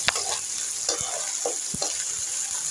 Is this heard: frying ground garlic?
yes